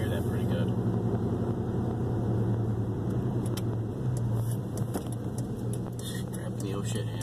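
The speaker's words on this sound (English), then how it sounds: "When I flick the overdrive off, it downshifts and it goes. So it sounds really cool." A Dodge truck engine drones and revs while driving as the overdrive is switched off to force a downshift and acceleration, a steady low rumble close by, with someone talking over it.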